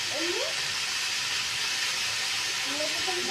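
Spices stirred and lightly fried in a pan give a steady, close hissing sizzle throughout, with a few faint scraping sounds from the stirring.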